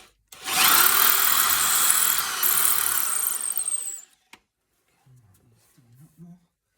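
A drill grinds loudly for a few seconds while working on a Porsche 911 996 exhaust, then cuts out, followed by a faint voice murmuring.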